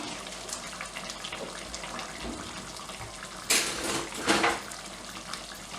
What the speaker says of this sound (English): you want to add a little bit of water